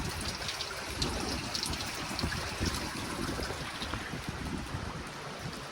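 A steady, broadband rush of drainage runoff water flowing from a field during heavy rain continues without a break, fairly soft and even throughout, like a small fast stream running nearby.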